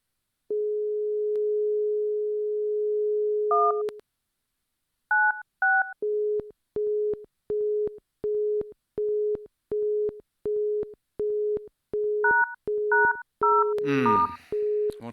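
Telephone line tones in The Mystery of the Druids video game: a steady dial tone, a few dialed DTMF beeps, then a long run of regular pulsed busy tones mixed with more dialing beeps and a brief crackle near the end.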